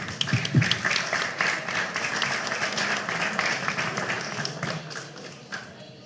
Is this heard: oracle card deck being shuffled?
no